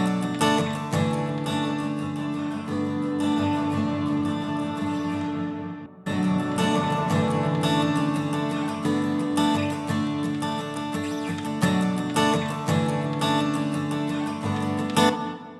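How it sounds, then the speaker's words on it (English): Guitar through a normal reverb algorithm, sustained chords and picked notes ringing out with a lingering wash, in two phrases separated by a brief gap, close and without voices. "It's a normal reverb algorithm."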